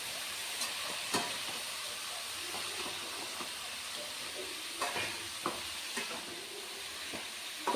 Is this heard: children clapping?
no